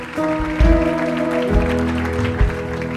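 A church congregation applauds during a celebration service, a steady wash of clapping blended with loud worship music, sustained organ-like chords and thudding drum beats throughout.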